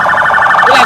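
A voice imitates a siren in a short, loud, wavering wail that rises and falls rapidly, close up.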